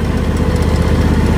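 A lawn mower engine runs steadily and loud at close range, a constant low throbbing drone with no pauses and no voices.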